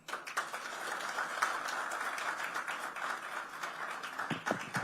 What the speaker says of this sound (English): let's give him a very, very warm round of applause for this